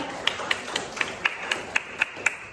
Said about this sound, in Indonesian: Tepuk tangan dulu untuk materi kita yang pertama.